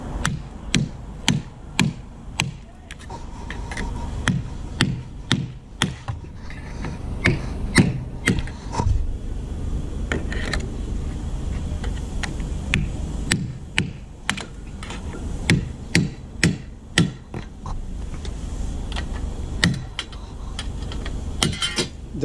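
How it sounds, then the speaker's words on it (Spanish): Chisel struck repeatedly to knock rivets out of the metal molding on a 2006 Chrysler PT Cruiser convertible, giving a steady run of sharp close metallic taps and knocks, some in quick clusters, with no talking. "Y voy a estar utilizando un chiso, un cincel."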